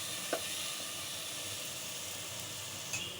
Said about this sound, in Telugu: ఆనియన్స్, అల్లం వెల్లుల్లి పేస్ట్, పచ్చివాసన పోయే వరకు ఫ్రై చేసుకోవాలి ఆయిల్లో.